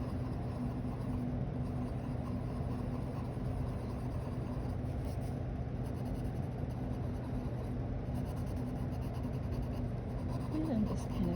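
Faber-Castell colored pencil shading a small area on paper, a faint, continuous scratchy rasp at steady low volume.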